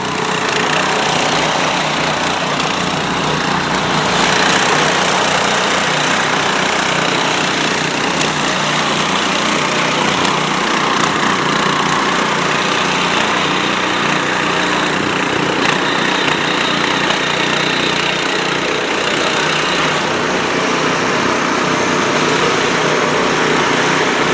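A small power weeder engine runs loud and close without pause in a rice field, a steady high-pitched mechanical drone with slight fluctuations throughout.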